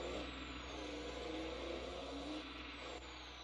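A grain truck's engine drones steadily in the farming game Farming Simulator 22, a constant low mechanical rumble with mild revving, heard alone at a quiet, even level.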